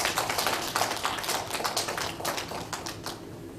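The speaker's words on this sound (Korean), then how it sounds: "우리 박수로 환영합시다." A church congregation at a Wednesday Bible study claps in welcome for a visiting preacher, a dense, continuous patter of many hands at even volume with no voices over it.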